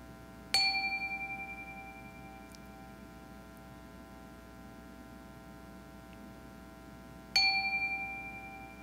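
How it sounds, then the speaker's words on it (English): Chime rung twice in a quiet worship service hall, each strike a bright, clear ring that decays slowly over several seconds, the second strike about seven seconds after the first, over a faint steady hum. "let us settle our minds and calm our hearts with the ringing of our chime"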